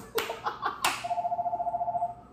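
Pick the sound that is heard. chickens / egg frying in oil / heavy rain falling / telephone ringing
telephone ringing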